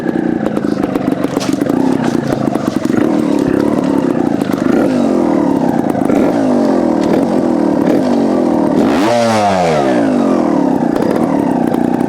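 A Beta TR34 trials motorcycle putters close by over rock, its engine chugging unevenly and then blipping into a sharp rev with a rising and falling pitch sweep before settling again.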